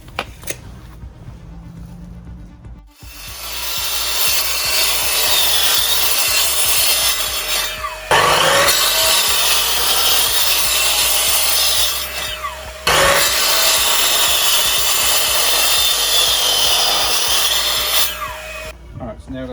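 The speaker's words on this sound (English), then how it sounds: "now we're going to cut these in the mitre, 45" A mitre saw cuts timber at 45 degrees for a bench seat with firewood storage: the motor spins up, then two long loud blade passes through the wood, each ending with a brief drop in between.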